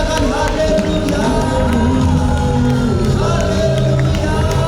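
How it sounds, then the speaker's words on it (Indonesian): Congregation at a senior community church service cheering, whooping and shouting together in a sustained, loud crowd roar that fills the space, with music and voices mixed throughout. "Sorak-sorai katakan haleluya"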